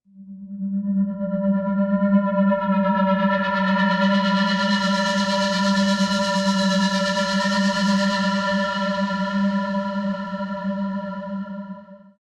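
A Vital synth atmosphere drone preset run through an external reverb: a sustained, steady tone rich in stacked harmonics with a wide, washy shimmer, holding at full loudness for about twelve seconds before fading out.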